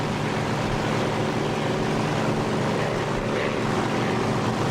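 Simulated propeller aircraft engine roaring steadily and loudly in the DCS flight simulator game, a constant droning hum with no break.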